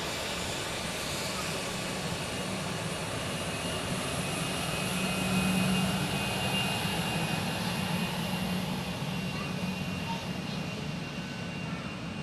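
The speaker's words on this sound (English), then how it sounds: "It's an Embraer 145" An Embraer 145 jet airliner at Dallas Love Field gives a loud, continuous broadband roar that holds steady for the whole stretch.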